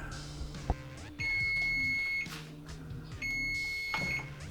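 Kitchen timer set to 15 minutes while making lasagna, with a short click, then two long, steady, high electronic beeps, each lasting about a second, close and clear with no talk.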